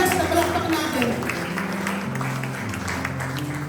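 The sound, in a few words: congregation applauding in church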